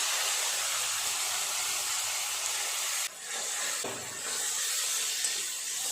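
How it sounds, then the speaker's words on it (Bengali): Ginger garlic paste sizzles steadily in a pan with softened tomatoes, onions and salt, a continuous, even frying hiss with a brief dip partway through. "আদা রসুনের কাঁচা গন্ধটা চলে যাওয়া পর্যন্ত একটু নেড়ে নেব"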